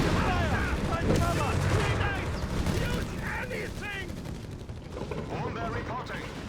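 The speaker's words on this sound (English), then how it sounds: "Slow approach here, though, is definitely getting a lot of shots in from Dumais on Caosak's troops" Rifle and machine-gun fire crackle through a Company of Heroes 3 multiplayer battle between Wehrmacht and US Forces, with repeated bursts of shots and explosions mixed with game sound under ongoing play.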